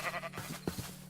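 Several short bleats from sheep in the video game Minecraft, quick and fairly close, over a low steady hum with no talk.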